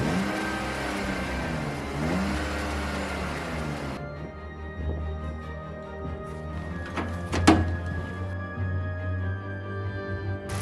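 An abandoned 1990s BMW engine cranks and settles into a steady idle, running close and moderately loud with a low drone and a brief sharper burst partway through.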